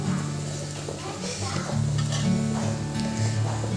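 Prawn curry with tomato fries in hot oil in a pan, giving a steady sizzle with occasional stirring scrapes while a person talks over it.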